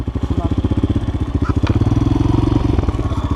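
A GEON X-Road 250 PRO enduro motorcycle engine runs close by with a loud, rapid, even thumping beat at idle and low revs, with a brief light clank partway through.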